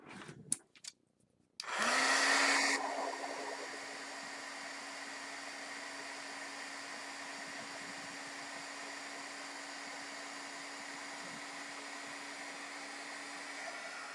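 A heat tool sets embossing on a pocket letter craft. A few clicks and bumps come first, then the tool switches on with a loud rush that settles into a steady, close whirring hum lasting to the end.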